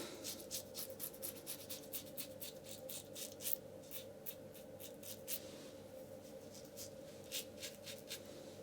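A Rockwell 6S safety razor scraping through lathered stubble on a second pass, a rapid series of short crisp strokes close to the microphone, each a bright rasp with brief pauses between.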